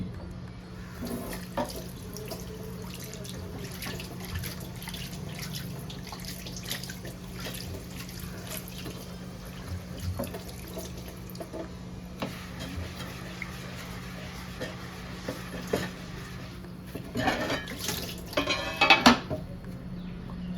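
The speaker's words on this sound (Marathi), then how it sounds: "तर मी एकदा धुवून घेते" A cast iron dosa pan being rinsed under a running kitchen tap, with steady water flow and occasional light clinks and scrapes of metal, growing busier near the end.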